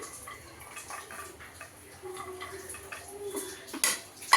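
Green chillies and raw tamarind pounded bit by bit in a stone mortar for an Andhra-style roti pachadi, giving irregular close knocks and scrapes of stone on stone, with a sharper clack near the end.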